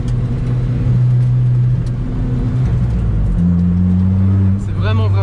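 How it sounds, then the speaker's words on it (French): An Alfa Romeo 4C turbocharged engine drones steadily from inside the cabin on a fast Alpine road, pitch stepping up as it accelerates and the turbo spools, with someone talking over the sustained rumble. "Le spool du turbo, il est terrible. On entend ça charge, ça charge."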